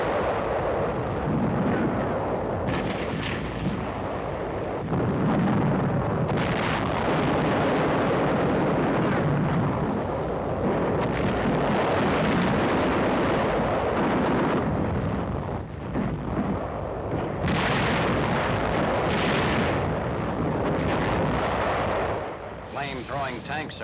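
Japanese 77mm guns and wartime combat in 1945, heard as repeated heavy booms and blasts over a dense rumbling battlefield din, with a narrator speaking throughout.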